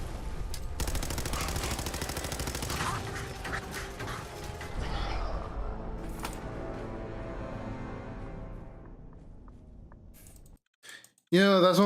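Rapid bursts of gunfire from a super mutant firing armor-piercing rounds in a video game, dense crackling shots that thin out and fade over several seconds before a brief sharp sound at the end.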